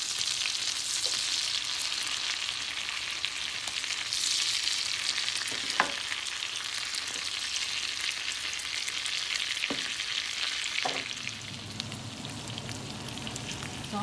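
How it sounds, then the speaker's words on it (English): Garlic butter shrimp and fried rice being stirred in a frying pan, giving a steady close sizzle and frying hiss throughout with occasional scrape and clink of the utensil against the pan. "Now, we'll mix it all together. Keep on stirring like this."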